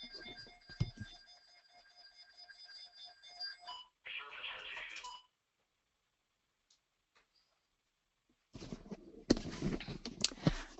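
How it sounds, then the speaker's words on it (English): A phone alarm sounds for a severe thunderstorm warning, a repeating electronic tone with steady harmonic beeps for about four seconds, followed by rustling, a pause and then close handling noise. "We just got a severe thunderstorm warning and my alarm went off."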